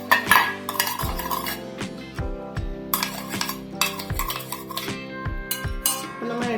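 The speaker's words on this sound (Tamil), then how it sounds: "இட்லி பாத்திரம் எடுத்து அதில் நல்லா எண்ணெய் தடவிக்கலாம்" An idli steamer pot being handled and greased with oil while making ragi and mani kozhukattai gives off close metallic clanks and scrapes, with repeated clinks of utensils against the vessel and no talking.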